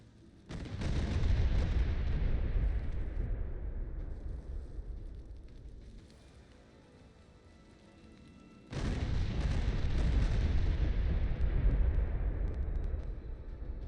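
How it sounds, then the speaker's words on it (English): Heavy shell fire from a battleship in a space combat video game: two long, loud rumbling booming bursts with a quieter gap between them, and no talking. "the shells that the battleship's firing, not enough to break DT on this torch ship"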